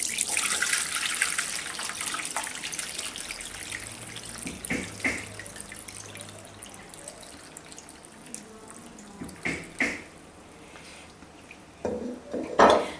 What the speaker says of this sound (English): Now we're going to just strain it into another bowl.